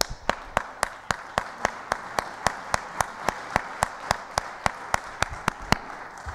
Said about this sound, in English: the one who needs our applause is Marie, and I would like you to applaud her